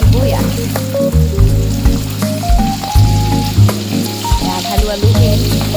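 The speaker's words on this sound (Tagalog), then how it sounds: "Sabay na natin ang gisa ng ating sibuyas." Chopped onions sauté in a frying pan with a loud, steady, close sizzle and some stirring, while music plays underneath throughout.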